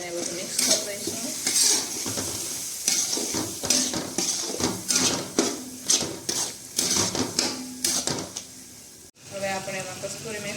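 Spices such as coriander-cumin powder and garam masala being stirred into a sizzling cluster bean and potato curry, with a spoon scraping and clattering against the pan in repeated strokes over a steady frying hiss.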